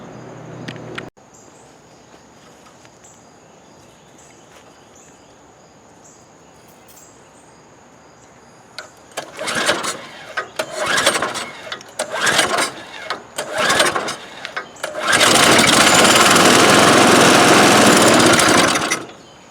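After a long quiet stretch, the small engine on a DR Powerwagon dump cart, fitted with a cheap carburetor, sputters through several short uneven bursts. It then catches and runs loud and steady nearby for the last few seconds.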